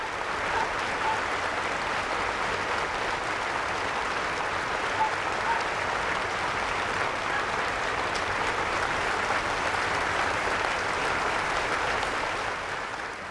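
A huge crowd of thousands on a promenade claps continuously through what was meant as a minute's silence after a cannon round, a thick, even roar of applause with no voices standing out.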